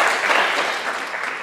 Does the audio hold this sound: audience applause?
yes